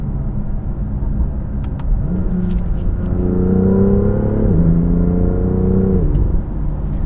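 A 2018 BMW M2 F87 on the road builds revs with a rising growl, briefly drops in pitch as it shifts, then climbs and holds again. The engine sounds loud and close, with no talk over it.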